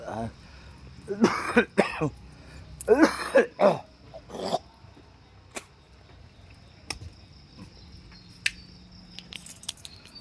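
Someone with a chest-aching cough coughs several times in rough, throaty bursts early on, then a quiet stretch with faint clicks and insects chirping in the background.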